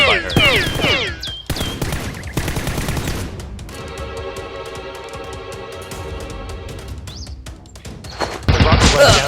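Toy foam-dart blasters fire in bursts during a staged police-versus-robber shootout indoors, rapid clattering volleys over a continuous tonal music bed, with a loud burst at the end.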